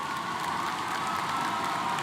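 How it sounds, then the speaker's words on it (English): Graduates applaud at a high school commencement ceremony, a dense, steady wash of many hands clapping together, even and sustained throughout with no breaks. "Graduates, give yourselves a round of applause."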